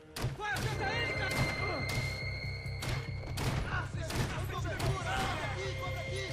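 Rapid bursts of gunfire in the video game Max Payne 3, heavy thudding shots repeating densely and loudly throughout, with voices talking over the action.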